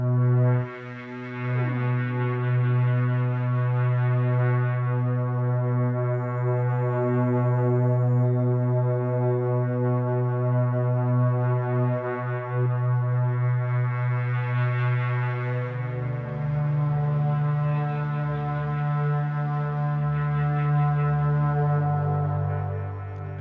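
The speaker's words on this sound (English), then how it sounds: "let's try the last one, which is the Augmented Woodwind" An Arturia Augmented Woodwind software synthesizer holds a low, reedy drone that slowly morphs in timbre, then shifts up to a new pitch, sustained without pause.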